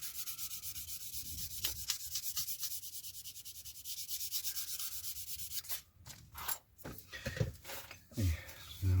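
Hand sanding the surfaces of a 1/48 scale F-104J Starfighter plastic model kit, rhythmic close rasping strokes in quick succession, then a few handling bumps and knocks toward the end.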